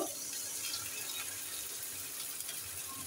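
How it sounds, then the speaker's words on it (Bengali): A little water pours into a pan of spice paste for tilapia curry, a soft continuous trickling splash heard close and fairly quiet, with no talking. "অল্প একটু পানি দিয়ে দেবো।"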